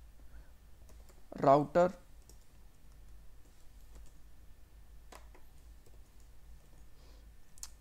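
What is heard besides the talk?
typing code on a computer keyboard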